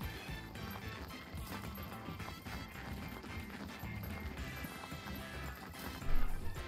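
Donkey moving in the survival video game SCUM, with hoof clip-clops and scuffling steps under a busy background of game noise, ending in a louder thump near the end.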